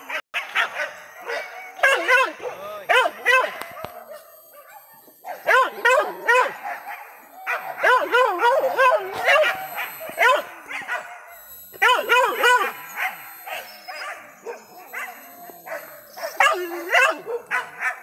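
A pack of hunting dogs on a hunt barks, yelps and whines continuously and close by, their excited overlapping calls coming in dense bursts, with people talking in the background.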